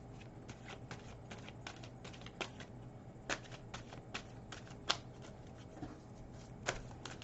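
Tarot cards are shuffled for a few seconds with a continuous soft riffle and flutter, marked by sharper slaps and snaps of the deck, close by with no voices.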